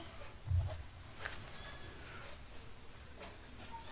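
A pen writing a ratio by hand on paper gives faint, intermittent scratchy strokes and small taps, close but quiet, in an otherwise hushed room.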